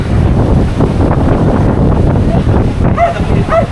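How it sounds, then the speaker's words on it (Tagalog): Strong typhoon wind roars and buffets the microphone continuously, with faint voices briefly audible near the end. "Sa lakas ng hangin."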